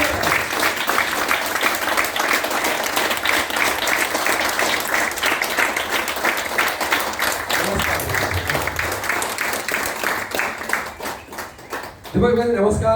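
A large audience in Ahmedabad claps loudly and continuously for about twelve seconds to welcome Mr. Dipak Makadia on stage, with the applause thinning briefly near the end before picking up again.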